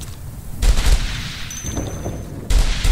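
Heavy gunfire from the military shooter Operation Flashpoint: Red River, with loud bursts of shots and booming impacts that come in two strong volleys separated by a quieter stretch.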